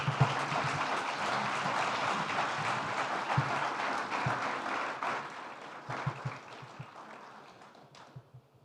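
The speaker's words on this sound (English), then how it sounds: "Another round of applause for His Excellency." Steady audience applause at a business forum, a broad, even patter of many hands that thins out and fades toward the end, leaving a few scattered claps.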